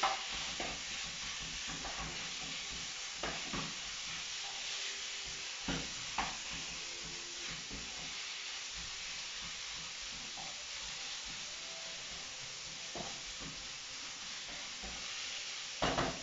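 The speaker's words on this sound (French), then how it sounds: "Mon saumon est en train de cuire" Salmon fries in a pan with a continuous soft sizzle and hiss, faint and steady, flecked with small pops and light clicks from the kitchen, with no talking.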